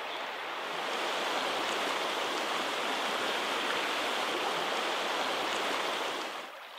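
A trout creek flows past a big boulder in shallow water, a steady, full rushing wash that holds evenly throughout with no voices.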